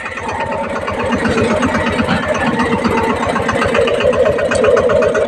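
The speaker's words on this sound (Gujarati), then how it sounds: "આજે આપણે ટ્રેક્ટરને કરવાનું છે ઓફ રોડિંગ" A tractor engine runs steadily and loudly nearby while driving off-road over stony village ground, its rhythmic diesel chugging continuous throughout with no talking.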